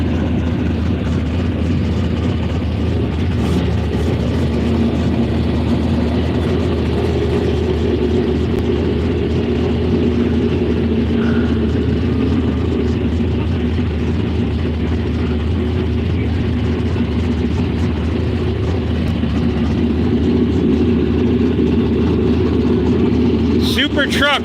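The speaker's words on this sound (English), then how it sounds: "it's got a Chevrolet subframe and a Chevrolet engine in it" A Chevrolet-powered super truck on Chevrolet subframe runs at Vado Speedway, a loud continuous low engine drone holding steady throughout, with a voice talking faintly beneath it.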